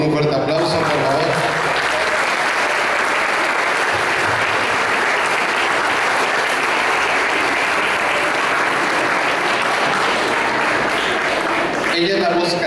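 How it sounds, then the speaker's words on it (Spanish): An audience at the Poliforum applauds to welcome a soloist, a full, loud wash of clapping that carries on steadily and fades near the end as voices come in briefly. "La recibimos con un fuerte aplauso, por favor."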